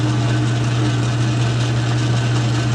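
Metal lathe facing the side of a workpiece for an Eagle 66 oil can, a steady mechanical hum with a strong low drone running continuously, close and fairly loud, with no talk.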